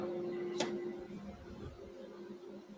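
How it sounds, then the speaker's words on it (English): A woodshop dust collector running in a woodturning workshop gives a steady mechanical hum with a faint tonal whine, plus one brief click near the start. "Turn on the dust collector."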